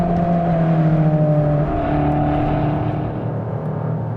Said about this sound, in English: step on the throttle again. Boost is coming after 3000 RPM